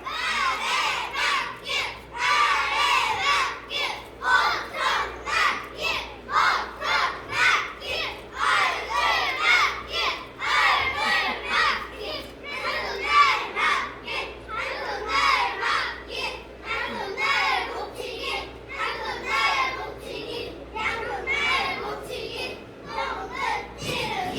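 A group of kindergarten children at a recital shout loudly in unison while performing taekwondo basic moves, with sharp rhythmic bursts repeating steadily for the whole stretch.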